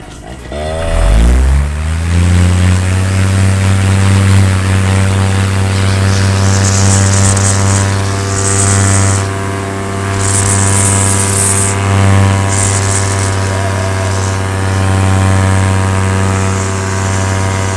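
A new propeller aircraft engine warming up before flight: it catches and spins up within the first seconds, then holds a loud, steady droning idle with a strong low hum and a faint airy hiss.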